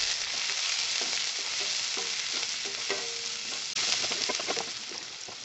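Finely chopped onions fry in oil with cinnamon, cloves and cardamom, giving a steady close sizzle with occasional scraping stirs.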